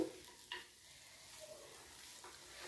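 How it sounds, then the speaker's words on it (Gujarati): A spoon stirs and mixes soaked poha in a pan, giving faint, soft scraping and a low sizzle, with a slightly louder scrape near the start and otherwise quiet background. "અને પૌવાને આપણે એકદમ સારી રીતે મિક્સ કરી લઈશું"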